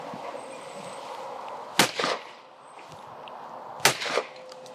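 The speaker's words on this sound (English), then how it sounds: "I'm shooting a side-by-side compared to an over and under" Side-by-side shotgun fired at clay targets, two sharp, loud shots about two seconds apart, each with a short trailing echo over a quiet outdoor background.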